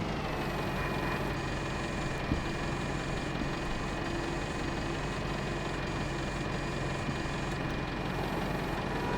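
A tractor engine idles in the Farming Simulator 22 video game, a continuous loud, even rumble with a faint steady whine that holds unchanged for about nine seconds with no talk.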